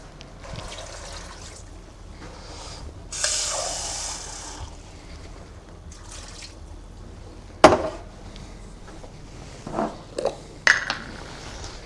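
Water is poured into a stew pot in a kitchen, a brief splashing gush early on, followed by scattered clinks and knocks of pots and utensils and a few sharp clatters, with no talking.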